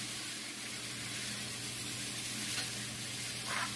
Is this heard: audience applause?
no